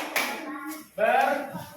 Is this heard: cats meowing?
no